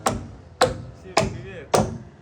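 A hammer driving nails into wood on a building site: four sharp, evenly spaced blows about half a second apart, close by.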